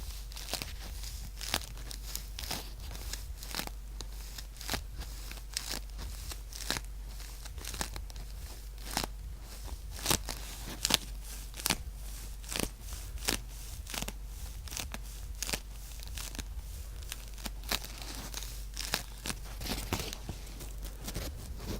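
Styrofoam being handled and squeezed close up, giving a steady run of crisp crinkling, crunching and squeaky tearing-like bursts throughout, quiet and unaccompanied by speech.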